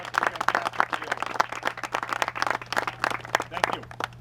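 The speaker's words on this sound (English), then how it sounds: "So I want to give them a big round of applause up front." A crowd gathered outdoors for a park playground renovation claps for the building crew, a fairly close, uneven patter of hands with a steady low hum beneath, continuing without talk.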